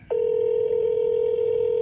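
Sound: telephone ringing while calling a car seller

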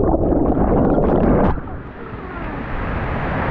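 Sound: river water flowing

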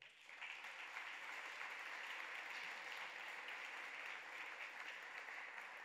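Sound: audience applause at a gala

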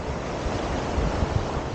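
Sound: ocean waves and surf at Varadero beach, Cuba

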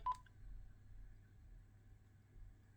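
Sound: button beeps on Quansheng UV-K5 radio while confirming menu

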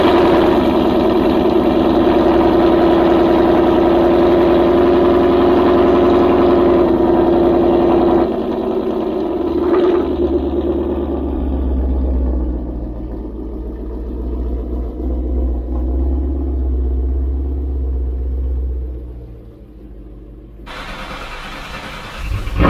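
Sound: car exhaust engine sound while moving car

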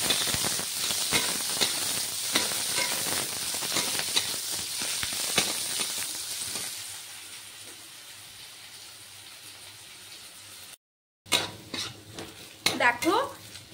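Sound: chopped onions frying in oil

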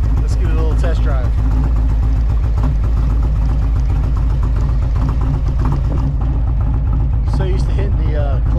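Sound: Harley-Davidson Touring M8 motorcycle engine on test drive

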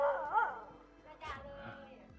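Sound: dogs barking at a house in rural Thailand

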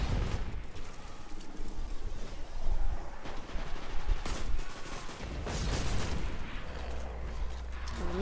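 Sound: gunfire from the video game Destiny 2, shooting snipers

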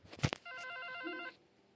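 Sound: telephone ringing in video game Five Nights at Froggy 2

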